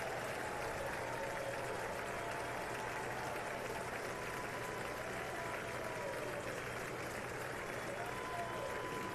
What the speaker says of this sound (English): You can see him getting a lot of applause from Democrats in the chamber.